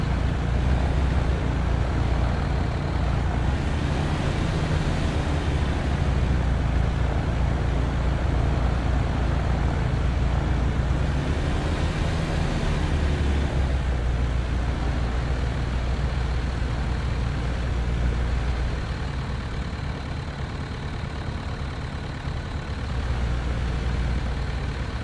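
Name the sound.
Piper Cub aircraft taxiing in Flight Simulator X video game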